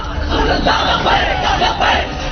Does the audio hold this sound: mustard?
no